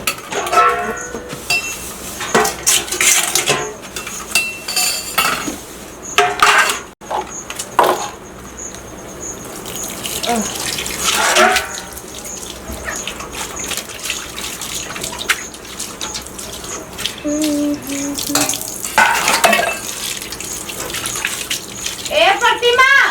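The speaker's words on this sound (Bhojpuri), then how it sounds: "कुछ न मालकिन बर्तन धोतानी।" Running water from a tap with repeated clinks and clatter of dishes being scrubbed and rinsed, close by, while people talk over it.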